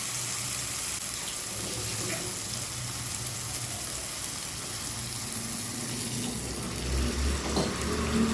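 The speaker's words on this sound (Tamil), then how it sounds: "மிளகாய் வேக வச்ச தண்ணி மிச்சம் இருக்குது இல்லையா, அதை இந்த ஜாரில் ஊற்றி கழுவி அதையும் இதில் நம்ம ஆட் பண்ணிக்க போகிறோம்." Leftover water from boiling chillies is poured into a mixer-grinder jar to rinse it for Schezwan chutney, a steady splashing rush over the whole stretch with kitchen sizzle in the background and a slight swell near the end.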